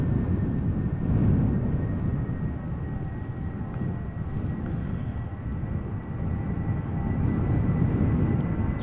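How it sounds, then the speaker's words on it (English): A British Airways Airbus A320, a 22-year-old airframe, departs Amsterdam Schiphol for London Gatwick, its engines a moderate, steady distant rumble with a faint tonal whine, no voices over it. "Speedbird going to London Gatwick, A320, flight 2825"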